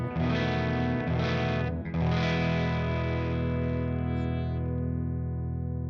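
An electric guitar runs through a UAFX amplifier pedal with the mic level raised for a mic-driven tone. A couple of strummed chords ring out, then a full chord sustains and slowly fades.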